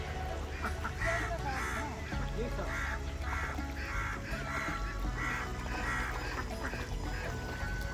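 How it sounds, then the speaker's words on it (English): Ducks quack repeatedly in a rhythmic series of calls, moderately near, over a busy outdoor background with faint voices. "Oh, ducks, fish, they all came."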